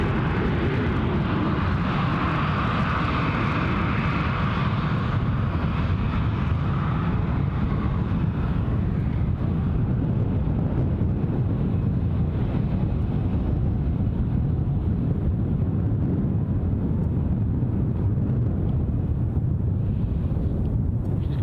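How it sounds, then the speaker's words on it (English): Loganair Twin Otter turboprop on its take-off run at Glasgow International Airport, a steady distant propeller drone heard outdoors with wind buffeting the microphone throughout, no voices. "Loganair is on the move. Our twin otter is making its run."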